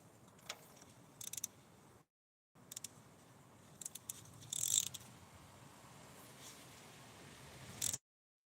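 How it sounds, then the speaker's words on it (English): A ratchet wrench with a flexible head clicks in short, close bursts while spark plugs are being changed. The rapid, faint ticking comes in several separate runs with brief pauses between them. "This is why I like this ratcheting."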